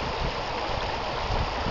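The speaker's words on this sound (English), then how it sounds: "looking at this beautiful river" Broad, steady rushing of the Chagrin River flowing in June, a constant wash of water noise filling the clip with no pauses and no talking.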